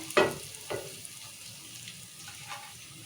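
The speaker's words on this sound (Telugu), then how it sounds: "ఇక టమాటాలు ఉల్లిగడ్డలు మంచిగా వేయి మరి ఎర్రగా అంటే ఎర్రగా మాడిపోయినట్లు వేయవద్దు" Tomatoes and onions frying in a pan for wheat rava upma, a soft, steady sizzle with a couple of sharp stir scrapes near the start and a faint clatter later.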